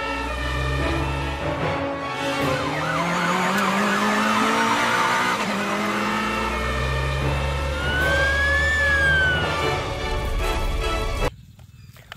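A cartoon toy police car siren wails with a rising and falling sweep, loud and close, alongside other busy toy and vehicle sounds before the clip cuts to near silence.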